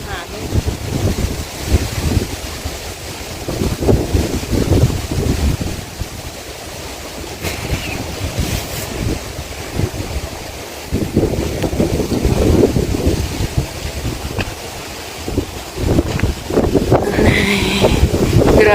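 Strong wind buffets the microphone in rumbling gusts at a wildfire, with a muffled voice talking intermittently underneath.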